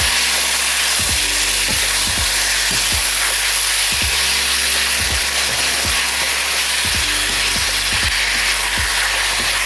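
Beef with basil being stirred and sautéed in a pan for Thai nuea phad krapow, a loud harsh sizzle throughout with a repeated rhythmic series of sharp scraping strokes from the spatula, no speech.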